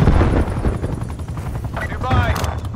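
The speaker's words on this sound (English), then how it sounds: "Attack helicopter available for tasking." An attack helicopter roars in Call of Duty: Black Ops Cold War, its rotor chop mixed with bursts of machine-gun fire and a radio-style voice over the din, loud and close.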